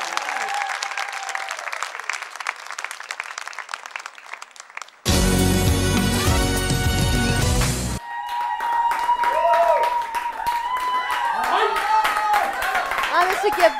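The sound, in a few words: audience applause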